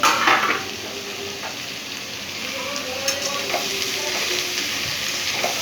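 Cabbage and beans are stir-fried in hot oil for veg chowmein, giving a steady close sizzle with scraping stirs and a few sharp utensil clinks against the pan.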